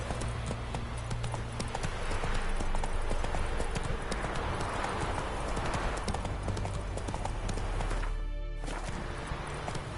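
Hooves of the horse Roach galloping in The Witcher 3, a fast, steady clip-clop rhythm running throughout over game ambience, with a brief sharp burst near the end.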